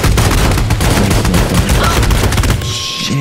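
Heavy, continuous gunfire in the PS3 game Army of Two, a loud, dense wall of rapid automatic shots that eases slightly near the end.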